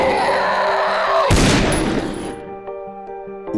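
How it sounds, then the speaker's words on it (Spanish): Gunfire sound effects in a zombie horror audio drama: a sudden loud blast of shots bursts over a droning background, then decays into a quieter, pulsing tail. "Tirando disparos a sus cuerpos"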